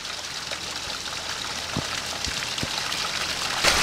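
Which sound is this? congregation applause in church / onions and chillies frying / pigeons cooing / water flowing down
water flowing down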